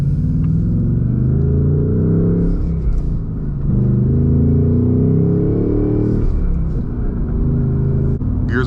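A 2026 Ford Mustang GT with a V8 and manual gearbox accelerates, a deep, steady engine rumble heard close from inside the car with slight surges in intensity.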